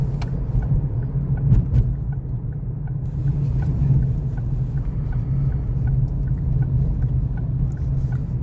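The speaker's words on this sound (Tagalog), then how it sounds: "Napunta na naman tayo sa traffic" Steady low rumble of road traffic heard from inside a car stuck in a jam, a continuous engine and road drone with faint ticking, no talk.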